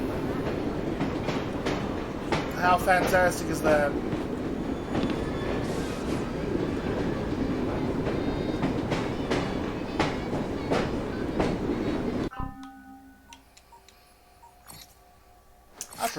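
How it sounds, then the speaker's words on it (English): A steam train passing in the video game Assassin's Creed Syndicate makes a rumbling, clattering rush that lasts most of the clip, then drops off sharply to quieter ambience. Someone speaks briefly over the train noise. "We have a train."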